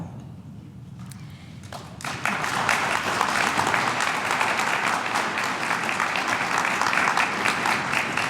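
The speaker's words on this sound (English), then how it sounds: "we applaud you" Steady applause from a crowd begins after a couple of seconds of quiet room noise and continues evenly to the end, loud and close.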